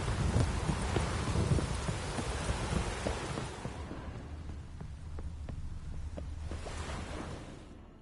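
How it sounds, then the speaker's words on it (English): A rainy thunderstorm in The Witcher 3 video game, with steady loud rain and low rumbling thunder that thins out partway through and then swells again before fading. "Storm, damn it."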